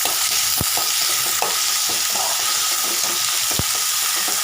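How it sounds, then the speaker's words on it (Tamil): Onion and curry leaves sauté in hot oil in a pan, a loud, close, continuous sizzle broken by a few sharp clicks of a spoon against the pan, with no voices. "இப்போ வெங்காயம் போட்டுக்கலாம். கருவேப்பிலை போட்டுக்கலாம். இப்போ வதந்துக்குங்க."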